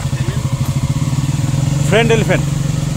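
A heavy ST7 motorcycle idling nearby with a rapid, even engine pulse throughout, loud and close, while someone speaks over it midway.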